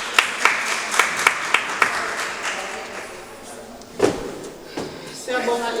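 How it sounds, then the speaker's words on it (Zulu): Clapping at a certificate handover for a food processing course, starting as a short run of evenly spaced, crisp claps, then thinning into scattered knocks and thumps with talk around them. "nishaya ihlombe"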